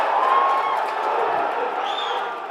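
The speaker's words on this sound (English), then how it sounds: "As you can hear, the crowd are fully invested in this one." Crowd at an army boxing championship, the Corps of Royal Engineers bouts: a dense, continuous roar of voices and cheering with a whistle rising through it, loud and steady throughout.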